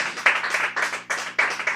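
A church congregation claps hands in praise to Jesus, a brisk run of sharp, loud, close claps in a quick uneven rhythm.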